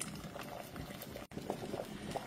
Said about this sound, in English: And now we bring it to a full boil.